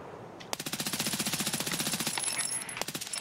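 Automatic gunfire in the shooter game Escape From Tarkov: a loud, close, steady burst of about twenty rapid shots, a brief pause, then a few more rounds.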